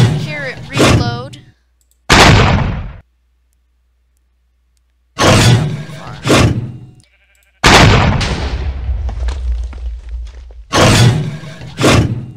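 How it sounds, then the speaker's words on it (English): A tank from Minecraft's Flan's Mod fires shells, each a heavy booming thunk, spaced by silent pauses while it reloads. Several loud shots follow one after another. "if you left click, you shoot a tank shell. Hear it reload."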